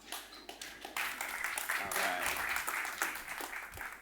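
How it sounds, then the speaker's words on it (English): Conference audience at a Bitcoin forum applauds as a speaker comes on stage, starting with scattered claps and swelling into full, steady applause with voices mixed in. "give him a round of applause"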